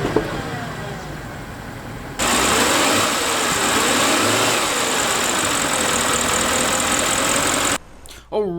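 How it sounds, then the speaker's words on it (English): A Bentley Flying Spur V8 S 4-liter twin-turbo V8 engine idles with a deep, steady rumble that holds evenly, then cuts off abruptly near the end. "that was the sound of the 4-liter twin-turbo V8"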